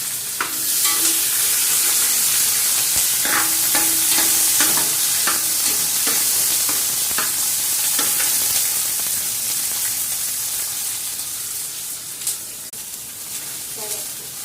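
Onion, green chili and biryani masala fry in oil, giving a bright, continuous sizzle with scattered spatula taps and scrapes close by. A faint voice is heard briefly.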